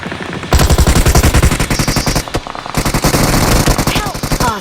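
Automatic gunfire in a battle royale video game, loud rapid bursts of shots with brief pauses, over game sounds and some speech.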